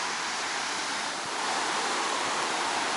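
Atlantic Ocean surf rolls in at Daytona Beach, Florida, as a dense, continuous roar of breaking water, loud and steady with no voices.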